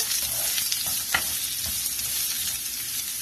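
Vegetables for wheat rava upma sizzle steadily in a hot pan while a utensil scrapes and stirs through them a few times, close by, with no talking.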